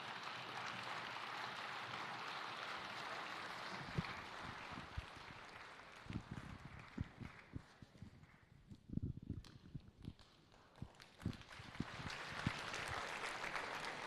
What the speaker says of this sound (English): A big thank you and a round of applause as our excellencies depart.